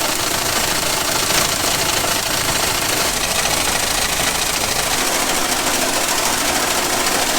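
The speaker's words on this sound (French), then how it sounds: "je vais reculer un peu le tracteur" An old SIMA tractor engine runs loud and close while reversing, a dense continuous mechanical roar with steady knocking vibration and no break.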